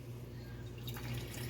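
Grease from cooked small meat patties being poured into a jar in a kitchen, a steady faint liquid trickle with a low background hum throughout.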